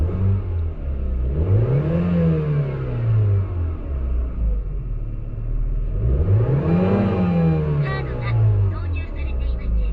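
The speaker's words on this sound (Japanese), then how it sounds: "エンジンが回るか吹かしてみます。" A MINI car with a warning light on and throttle trouble revs twice, each blip rising and falling over a steady close idle rumble.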